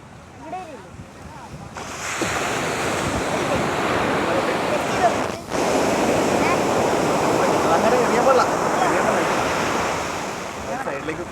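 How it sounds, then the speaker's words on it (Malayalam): Sea waves wash onto a beach in a broad, roaring surge with wind buffeting the microphone, a brief lull midway, and faint voices beneath the steady crash. "എത്ര തിരയുണ്ട് നോക്കാലോ"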